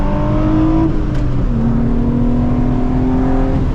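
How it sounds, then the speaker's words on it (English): A Nissan 350Z V6 engine revving, heard from close inside the car as a loud, continuous gurgling drone whose pitch dips and then holds steady throughout. "That V6 gurgling sound, I don't know how to explain it."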